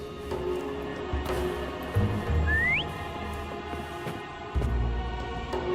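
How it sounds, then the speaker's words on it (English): A single short whistle with a rising pitch, used to call a horse in the video game Wuthering Waves, sounds once over a steady, soft ambient background. "Try whistling."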